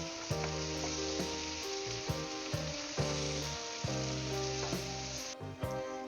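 Potatoes and carrots frying and being stirred with browned onions for Kuttanad duck curry: a steady, bright sizzle with occasional scraping stirs, heard under background music.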